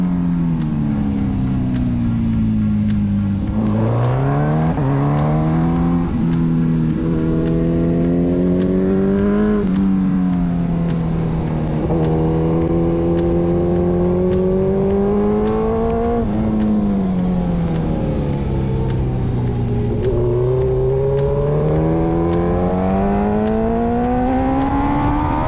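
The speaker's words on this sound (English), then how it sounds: "my bike was hiccuping" Onboard a motorcycle on a race track, the engine drones loud and close, its pitch climbing and falling through gear changes, with sudden dips and stumbles in the revs.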